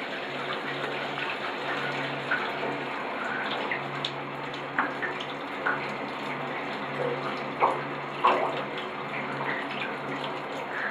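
Water sprays steadily in a bird shower in a continuous hiss, with faint splashes and small knocks scattered throughout.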